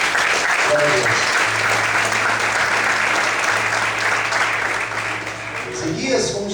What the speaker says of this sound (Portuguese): Você pode desocupar a sua mão, aplaudir o Senhor essa noite.